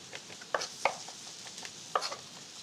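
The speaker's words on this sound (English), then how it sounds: "I'm gonna chop these up as well. I'm gonna put these in with our garlic." Anchovies chopped with garlic on a cutting board, a few distinct knife taps spaced irregularly against faint background clatter.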